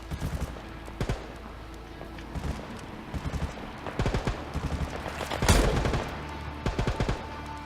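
Rapid bursts of gunfire from a World War 3 video game, sharp clustered shots repeating across the stretch with short gaps, one heavier blast midway, fairly close and loud with no talk over them.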